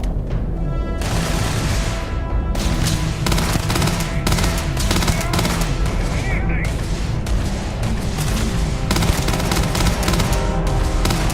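Sustained rapid gunfire from a Starfield firefight, loud and continuous with dense bursts and booms, with voices speaking over the shooting.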